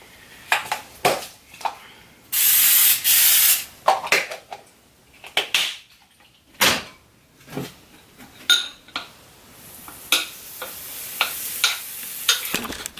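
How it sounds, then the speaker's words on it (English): Coconut oil cooking spray hisses onto a waffle maker in one steady burst lasting about a second, set among clinks and taps of kitchen utensils and a pan. "I spray it with this coconut oil spray."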